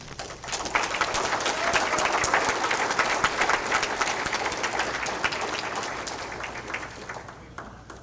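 Sustained applause from a gala audience, a dense wash of many hands clapping steadily for several seconds before thinning out near the end.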